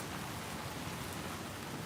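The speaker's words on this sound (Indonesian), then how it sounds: "itu hujan tuh, deras banget." Heavy rain pours down in a constant, dense hiss of drops striking surfaces, loud and even throughout with no voices.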